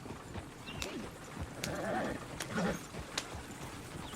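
Faint horse sounds from the video game Red Dead Redemption 2: scattered hoof clops and a soft whinny at low volume against a quiet background.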